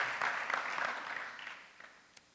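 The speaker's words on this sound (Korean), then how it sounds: "우리 박수로 한번 환영하겠습니다" A church congregation claps to welcome a visiting elder, a short burst of moderate applause that tapers off quickly.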